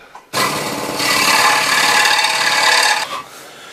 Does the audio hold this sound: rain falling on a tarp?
no